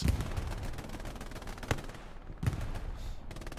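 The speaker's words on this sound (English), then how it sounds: "Rockets being flung from both sides here, sadly not hitting anybody." Rockets and small-arms gunfire in the online shooter Hell Let Loose during an 18-versus-18 tournament match: a few heavy distant blasts over a constant rattle of battlefield noise, with short gaps in the din.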